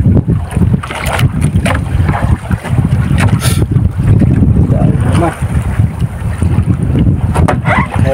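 A boat out on the open sea, with loud gusting wind buffeting the microphone over the steady rush of the hull and water.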